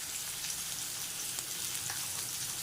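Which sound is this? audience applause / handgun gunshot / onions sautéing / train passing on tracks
onions sautéing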